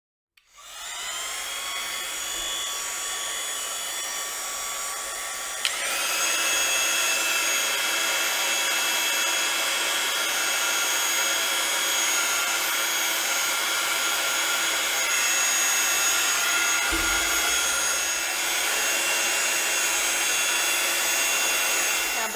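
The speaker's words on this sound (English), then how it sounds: "I'm going to use my heat tool, which is the Wow Embossing Heat Tool" A Wow Embossing Heat Tool, the newest second model, blows steadily to melt embossing powder on a card, a loud continuous airy whir that runs unbroken throughout and steps up slightly in level partway through.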